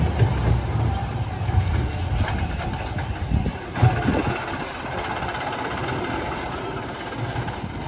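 A small kids' roller coaster train circles its track at Six Flags Great Escape amusement park, a steady mechanical rumble of moderate loudness with a brief clack partway through.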